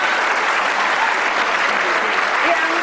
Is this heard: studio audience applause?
yes